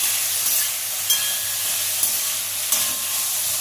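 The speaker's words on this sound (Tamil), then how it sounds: "அடுத்து 2 தக்காளி, 2 பெரிய வெங்காயம் இதை கட் பண்ணி வச்சுருக்கேன். அதையும் போட்டு நல்லா வதக்கிக்கணும்." Chopped tomatoes and onions sauté in a pan for crab gravy, producing a continuous hissing sizzle with a few soft, evenly spaced stirring clicks over a short stretch.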